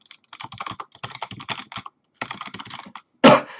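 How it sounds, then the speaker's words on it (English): Rapid clicking keystrokes as someone types a command on a computer keyboard, in two close bursts split by a short pause, ending with a louder clattering burst; no voices. "I'll just type the command and then break it down."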